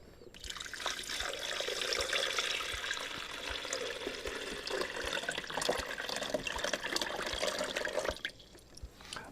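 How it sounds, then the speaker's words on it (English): Water pours steadily into the reservoir of a Vinci auto pour-over coffee maker, a continuous close splashing trickle that runs for several seconds and then tapers off. "Now I need to put some water in here"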